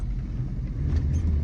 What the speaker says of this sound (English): We now see a Russian car driving by